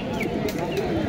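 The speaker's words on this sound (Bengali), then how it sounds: "এই পাশে খুব সুন্দর সুন্দর কবুতর আছে।" Pigeons coo softly amid the busy bustle of a village livestock and bird market, the calls faint and mixed into a crowded background murmur.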